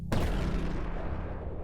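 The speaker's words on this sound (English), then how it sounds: "I make this cool little nuclear explosion cutscene for when you win" Nuclear explosion cutscene from a Godot space horror game: a sudden deep boom that rolls into a long rumbling roar, loud and sustained.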